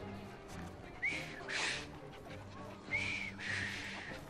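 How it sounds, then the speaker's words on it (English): A character in Assassin's Creed Syndicate whistles two short rising-and-falling phrases. Each phrase comes in two quick bursts and sits at moderate loudness over a low ambient game background. "I've just learned to whistle."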